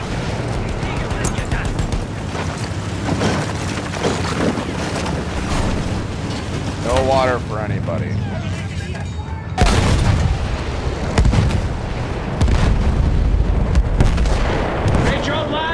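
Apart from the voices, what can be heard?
explosions and artillery fire in the video game Battlefield 1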